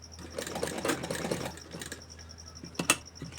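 A sewing machine stitches a shirt collar, starting two threads' width in from the edge, its rapid needle chatter running in short bursts with brief pauses, close and moderately loud.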